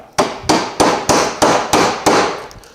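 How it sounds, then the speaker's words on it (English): A thin chisel is struck into wood to chop a mortise, seven sharp, evenly spaced mallet blows landing close and loud, each with a short ringing decay, with no voices. "I've got this little thinner chisel here, and I'm gonna make this in 2 chops"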